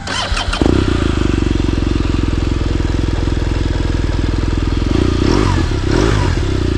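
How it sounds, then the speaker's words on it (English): A 2016 BMW R1200R motorcycle with a full titanium exhaust starts after a brief crank, then idles with a steady, loud, throaty exhaust burble, rising slightly in a couple of revs near the end. "We'll listen to the full titanium exhaust here."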